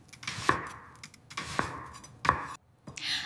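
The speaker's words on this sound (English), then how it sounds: "I chop the onion." An onion is chopped with a knife on a board in three sharp, separate strokes spaced about a second apart, close and fairly quiet with short pauses between cuts.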